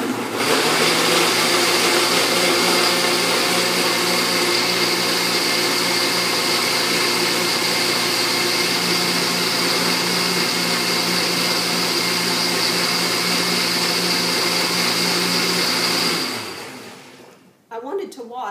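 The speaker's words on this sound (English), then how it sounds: "Let's blend this up. Remember, it's puree for about 2 minutes." A kitchen blender purées chopped onions with dry ingredients, running as a steady, loud, continuous whir for about sixteen seconds before winding down and stopping near the end.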